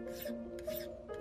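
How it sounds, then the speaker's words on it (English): Hand file rasping across soft steel dual drive gears from a Creality Ender 3 V2 extruder, a close, steady scraping in three strokes with brief gaps between them, no talking. "These gears are steel, however they're pretty soft and they file easily."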